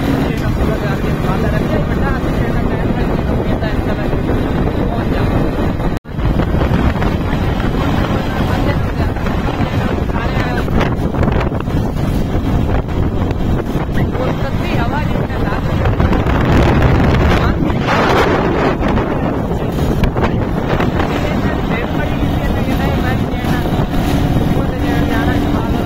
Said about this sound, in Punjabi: ਹਵਾ ਲੱਗੀ ਆ